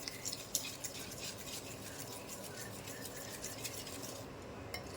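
A spoon mixes baking soda into dhokla batter in a bowl, a soft continuous wet stirring with faint light clinks of metal against the rim, quiet and close, without speech.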